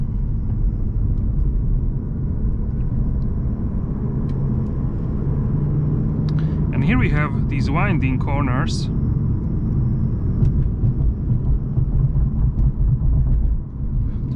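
A Mercedes C-Class coupe with the 220d diesel engine rumbles steadily from inside the cabin while driving a winding road, with someone talking over the low engine and road drone throughout.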